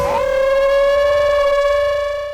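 A single long, steady howl-like tone with rich overtones, held loud and alone for a couple of seconds, a human voice imitating a wolf.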